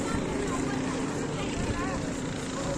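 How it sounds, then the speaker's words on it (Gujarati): A steady low engine drone with broadband rumble, a boat motor running continuously nearby on the Narmada River at Omkareshwar. "અહીંથી જો બોટિંગ કેવું સરસ બધું થાય છે"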